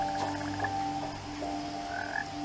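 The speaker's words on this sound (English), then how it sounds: "Got frog pond." Frogs croak steadily at a pond in the video game What Remains of Edith Finch, a layered chorus of rhythmic croaks and trills over a quiet woodland ambience.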